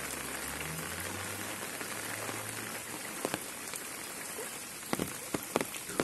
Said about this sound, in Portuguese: chuva não para de cair, na região